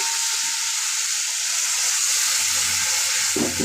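Food frying in a pan with a little salt, a steady broadband sizzle throughout, with a few stirring scrapes near the end; no voices.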